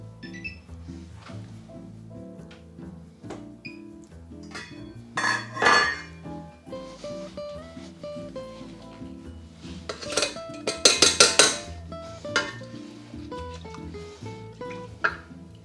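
A spoon stirs 4 dl of water and 2 dl of washed rice in a pot as it comes to the boil. Faint scraping and a few sharp metallic clinks come through under steady background music, with no voices.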